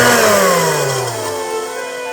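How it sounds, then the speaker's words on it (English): A Dirt Devil hand vac with dry bearings spins down, its motor whine falling steadily in pitch with a faint rattle running through it, loud and close with no talk. "Yeah, the bearings on this thing are a bit dry. Still hear that rattling noise in there."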